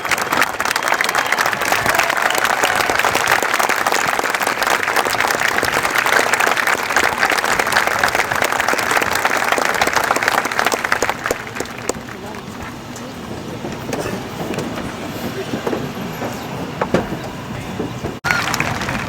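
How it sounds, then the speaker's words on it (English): A graduation audience stands and applauds a retiring teacher for her 30 years of service. Loud, dense clapping with crowd noise runs steadily, then thins to softer, sparser clapping for the last several seconds. "please stand and give Miss Kuzmick a round of applause for her 30 years of service"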